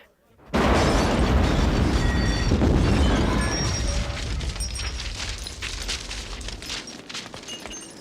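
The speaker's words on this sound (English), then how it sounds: "I planted another bomb." Bomb blast in a retro TV drama: a sudden loud explosive boom after a brief near-silence, then a long rumbling, crackling roar with scattered debris pops slowly fading over several seconds.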